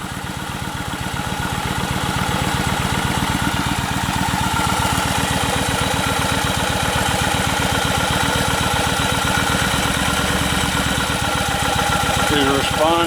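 A Kawasaki Vulcan 1500A motorcycle engine with a freshly cleaned carburetor idles steadily nearby, a loud, even rapid pulsing that holds throughout.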